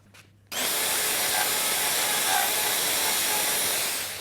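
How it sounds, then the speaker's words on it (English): A router hogs out wood for a lap joint, cutting deeper pass by pass: a loud, steady high-pitched whine with a cutting hiss starts abruptly after a brief quiet moment and holds unbroken, easing slightly at the end. "with our router, we just hog out the material, going deeper and deeper until we're at the correct depth"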